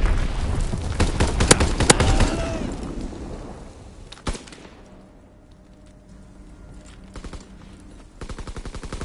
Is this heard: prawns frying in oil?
no